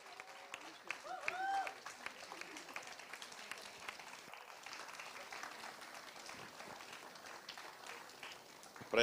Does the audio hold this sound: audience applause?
yes